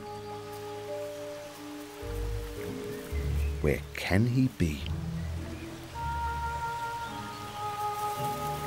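Rain falls in a forest with a steady soft patter throughout, while a narrator speaks over it.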